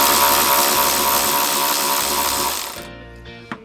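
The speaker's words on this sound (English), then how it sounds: "I'm gonna run this up with an electric ratchet." An electric ratchet whirs loudly as it runs up a bolt while fitting Jeep TJ mirrors and grab handles, then cuts off, followed by a brief metallic clack.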